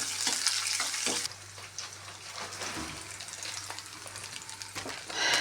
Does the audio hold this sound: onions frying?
yes